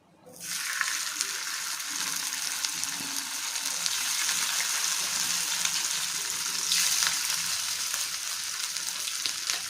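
Small fish fry in a pan with a steady, loud sizzle and crackle that holds constant throughout, close by and without talk.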